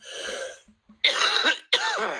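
Three harsh coughs, close and loud: a short one, then two stronger bursts after a brief pause, with no talking.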